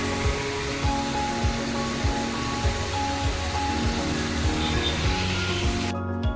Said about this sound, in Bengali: বাইরে পড়ছে অঝরে বৃষ্টি